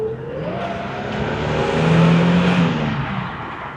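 A Holden Statesman accelerates from inside the cabin, the engine note climbing and swelling to a peak midway before easing off slightly, loud and steady with no voices over it.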